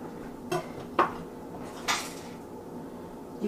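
Metal skillet and spatulas clatter during cooking, with three sharp, distinct clanks spaced about a second apart over a quiet kitchen background, no talk.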